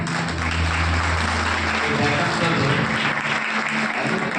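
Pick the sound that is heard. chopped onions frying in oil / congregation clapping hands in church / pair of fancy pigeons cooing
congregation clapping hands in church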